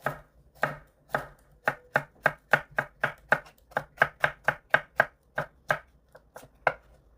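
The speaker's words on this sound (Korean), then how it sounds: "양쪽이 좀 잘라버리고 채를 썰어줄게 가늘게" A knife cuts a bell pepper into thin strips on a cutting board, producing about twenty crisp, evenly spaced chops in a steady rhythm, close and clear with no talking.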